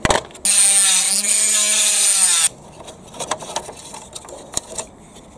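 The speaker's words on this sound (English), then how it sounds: "Next thing to do is to remove the axle, so I'm going to saw that and then take the wheels off." A saw cutting through the metal axle of a Bruder toy truck, a steady rasping grind for about two seconds, followed by quieter scattered clicks and handling knocks.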